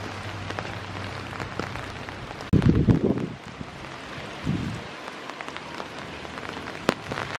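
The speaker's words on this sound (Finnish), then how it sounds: "Ei se sade ole se ongelma, se on se tuuli." Heavy downpour and strong wind on a city street lined with buildings: a steady, dense hiss of rain, with gusts buffeting the microphone in loud low rumbles twice, and no voices.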